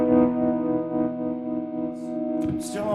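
Sustained electric guitar notes and chords with delay, reverb and tremolo, played straight into a Fillmore 50 amp on its lead channel, ringing out loud with a short, bright pick attack near the end.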